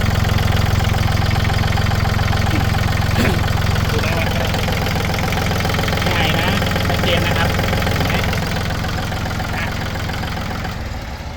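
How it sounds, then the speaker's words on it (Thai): A used Yanmar 39 hp three-cylinder tractor engine idles steadily and loudly in a low, continuous rumble throughout, with someone talking over it. "ตัวนี้เป็นยันมา 39แรงม้านะครับ เครื่องยนต์เป็น 3 สูบเล็ก"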